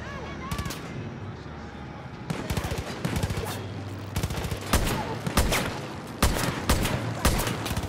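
Sniper rifle gunfire in the shooter game Far Cry New Dawn, a run of loud sharp shots spaced irregularly, some in quick pairs, over a constant low game rumble.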